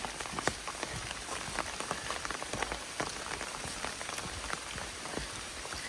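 Rain pours down on a hiker on the Appalachian Trail, a dense patter of drops striking nearby surfaces in a steady crackling hiss with scattered sharper hits.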